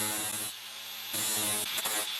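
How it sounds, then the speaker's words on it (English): An electric grinder wears down the cross peen of a jewelry hammer, a steady close-up whine with harmonic hum that drops and surges as the metal is pressed to the wheel and lifted away. "Start grinding and rounding the squared edges of the peen."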